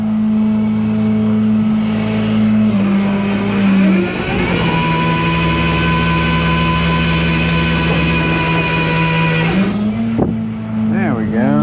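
Truck engine droning steadily while the vehicle drives and makes a hard, slow turn, a sustained hum that shifts pitch partway through. People talk over it.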